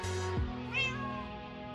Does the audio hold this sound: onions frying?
no